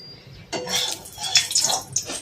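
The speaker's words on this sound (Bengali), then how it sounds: "এবার আমি এটাকে ধুয়ে নেবো জল দিয়ে" Vegetables being rinsed with water in a home kitchen: splashing and sloshing bursts with light clinks of a vessel, close by and intermittent, with no talk.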